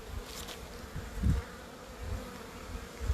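Honeybees buzz around their queen in an opened hive, a continuous soft hum with occasional closer low thumps and bumps, fairly quiet and without speech.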